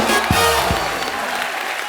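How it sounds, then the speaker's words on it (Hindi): Studio audience applause on a Hindi comedy talk show, a loud burst of clapping and cheering that fills the short moment and fades slightly toward the end. "एक बार जोरदार तालियां।"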